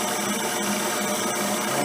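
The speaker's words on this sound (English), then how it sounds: "throwing some chips with my Randy Richard dovetail cutter" A milling machine cuts metal with a Randy Richard dovetail cutter, a steady, harsh broadband grinding hiss, close and continuous with faint irregular ticks, no voices.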